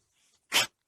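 A dog at a farm gives a single short, sharp sneeze, close and fairly loud, preceded by a faint snuffle.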